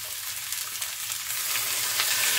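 Bitter gourd frying in a hot pan, a dense close sizzle with faint stirring scrapes, steady and building slightly louder over a couple of seconds, no talk.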